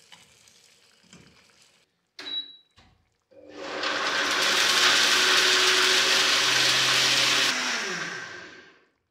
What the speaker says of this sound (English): Give it a smooth blend.